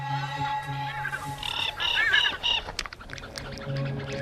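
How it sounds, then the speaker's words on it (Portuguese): A few nasal honks from a goose sound at a distance, mixed with other bird calls over a low background hum. "escutou o barulho de uma pequena risada de ganso à distância"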